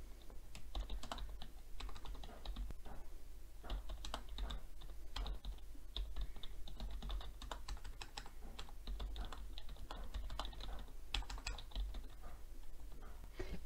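A message being typed on a computer keyboard for WhatsApp on a desktop, with quick irregular bursts of key clicks continuing steadily over a low background hum, alone without speech.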